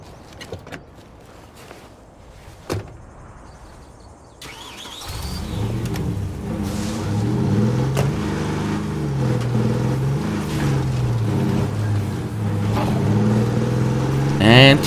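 A car's engine in State of Decay 2 starts up after a few sharp clicks and thuds, then runs steadily with a rising and falling drone as the vehicle drives off.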